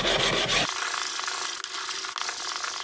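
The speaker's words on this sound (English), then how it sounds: "So first of all, I need to sand the edge itself." Hand sanding along the edge of a wooden cheese board makes a rough, loud scrubbing burst that stops abruptly, followed by quieter light rubbing and a couple of small knocks.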